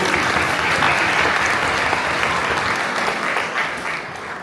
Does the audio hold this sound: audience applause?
yes